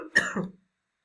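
A single short cough rolls into throat clearing, close and fairly loud, then gives way to silence.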